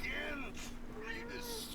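A housecat meows a few times in quick succession, close and fairly clear, with a person talking softly over it.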